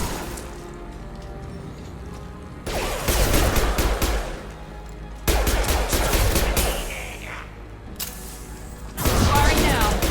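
Sci-fi gunfire in the Mass Effect 2 Archangel fight: three loud bursts of rapid automatic shooting broken by quieter stretches of background game ambience.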